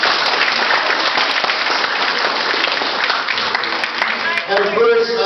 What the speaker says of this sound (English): If we can give those two people a round of applause